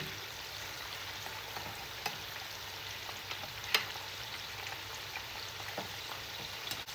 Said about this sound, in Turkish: Biberleri çok fazla kızartmıyoruz.